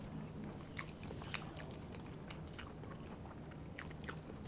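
Someone bites and chews brown sugar bubble pizza up close, with soft crunches and sticky, moist chewing sounds repeating over a quiet room background.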